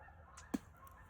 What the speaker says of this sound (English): I guarantee you there's 15 to 20 birds gobbling right now.